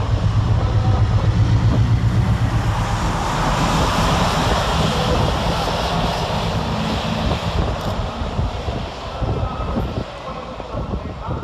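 A Class 60 diesel locomotive, 60010, runs light engine through Doncaster railway station, giving a loud, sustained engine roar and rumble that holds steady and slowly eases.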